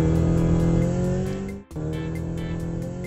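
A BMW car engine drones steadily and close, with a raised tone like a car pulling away. It breaks off abruptly partway through, then resumes at a similar level.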